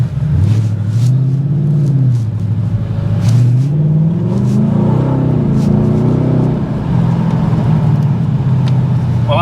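Mustang GT 5.0 with an Akrapovic exhaust is driven, giving a loud, continuous rumble heard from inside that rises and falls as the engine revs.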